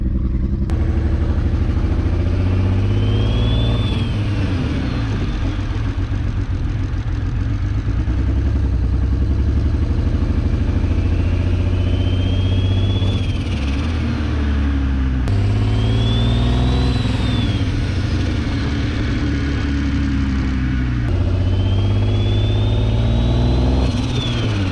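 A big single-turbo BMW 335i with a misfire idles roughly and loudly, rising into several repeated revs with a whistling spool each time, close up and with no talking.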